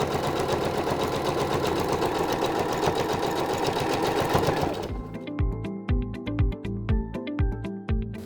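A sewing machine stitches trouser fabric along a drawn line, running in a steady continuous whir for about five seconds, then slowing into a series of separate, uneven bursts of stitching, close and fairly loud with no talking.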